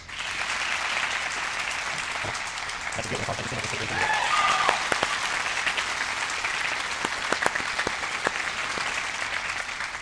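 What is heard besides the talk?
graduation audience applause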